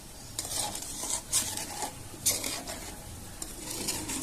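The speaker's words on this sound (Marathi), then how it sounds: "आता पण छान असं आपल्याला हलवून घ्यायचं आहे" Grated coconut and sugar are stirred in a pan with repeated scraping and clinking of a spoon against metal over a faint, low sizzle, heard up close.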